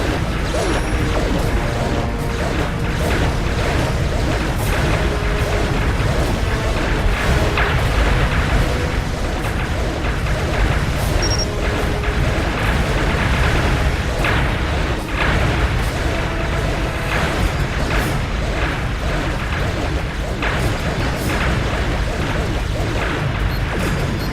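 A Borg ship blowing up during a space battle in the game Star Trek Legacy, a loud, continuous roar of booming blasts and crashing debris that carries on without a break, with weapon fire and mechanical rumble layered in.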